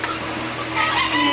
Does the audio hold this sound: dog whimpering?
no